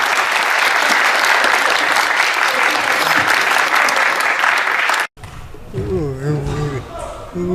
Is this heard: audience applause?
yes